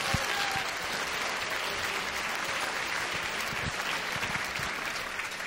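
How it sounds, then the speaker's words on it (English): Dense, sustained applause from a large audience at a charity fundraising gala, steady and full throughout with no break in the clapping. "Round of applause for all of you."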